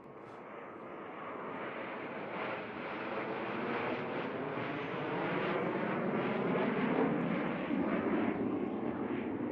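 US Navy Blue Angels jets passing over the runway at NAS Pensacola, a broad roaring jet rumble that swells gradually and holds loud and sustained across the whole stretch.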